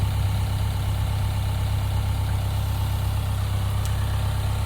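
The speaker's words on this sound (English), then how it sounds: "I'm trying to be real ginger here with the tractor" A tractor engine idles steadily at a construction site during barndominium framing, with a constant low rumble running through the whole clip and no talk.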